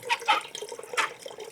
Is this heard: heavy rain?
no